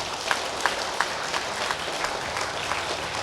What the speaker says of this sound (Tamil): அதனால் எல்லாருக்குமே ஒரு கைத்தட்டல் கொடுப்போம்